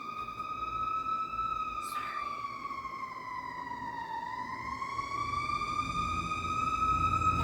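An ambulance siren wailing steadily, dipping in pitch midway and then rising again as it passes, fairly distant, with low traffic rumble building toward the end.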